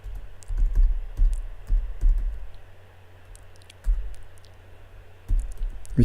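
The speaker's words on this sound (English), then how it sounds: "So let's type something, and we'll type Scotty" Close, steady typing on a computer keyboard, with irregular bursts of clacking keystrokes, a pause in the middle, then more key taps, with no one talking.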